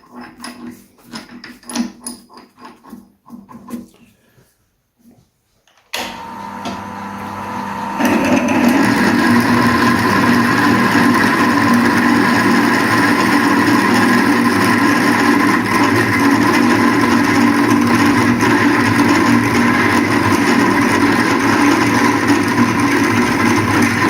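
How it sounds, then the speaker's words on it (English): A 10mm drill boring a hole on an angle, starting after a few seconds of quieter sound with a sudden steady whine that climbs and settles into a loud, continuous drone, close to the listener. "Now I've got something that my 10mm drill will go all the way through"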